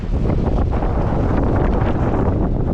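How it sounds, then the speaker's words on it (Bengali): Strong wind roars and buffets close against the microphone beside a river in a Sundarbans village, a continuous heavy rushing with gusty rumbles and no voices. "এত হাওয়া তো হাওয়া বইছে"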